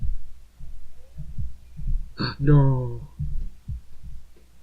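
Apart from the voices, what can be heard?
heartbeat sound effect in Katawa Shoujo video game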